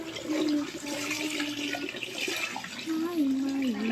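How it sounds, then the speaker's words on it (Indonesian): Tap water runs steadily onto laundry being rinsed by hand at home, a continuous splashing rush with gurgling, while someone talks over it. "Kalau dibilas itu aku selalu pakai air mengalir kayak gini"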